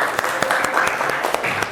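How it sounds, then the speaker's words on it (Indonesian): A classroom of children claps together in a brief burst of quick, uneven applause, the claps close and fairly loud, with a little voice mixed in. "aplaus untuk kita semua"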